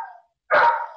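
A dog barks once indoors near a ringing phone, a short loud bark following a brief faint sound.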